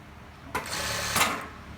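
A sewing machine motor whirs in two short bursts, close and fairly quiet, with a low background hum between them.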